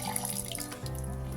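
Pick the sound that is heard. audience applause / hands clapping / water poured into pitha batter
water poured into pitha batter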